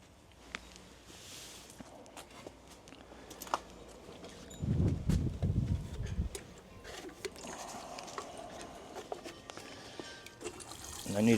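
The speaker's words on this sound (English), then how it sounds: "So all I need to do now really is water them in." Newly planted potatoes in dry compost are watered in from a can, a soft trickling and splashing that swells in the middle and then settles into quieter dribbling, with occasional knocks.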